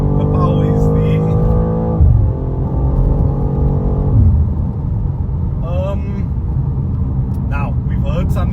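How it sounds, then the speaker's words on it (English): A BMW M2 engine under hard acceleration, with a synthetic broop burst at each simulated gear change; loud droning revs step down twice, then lower rumble with someone talking over it. "You probably heard a broop broop sound."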